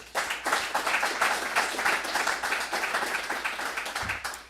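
Graduates of an executive protection training course give a round of dense, lively clapping from a small crowd nearby, steady for a few seconds before it trails off.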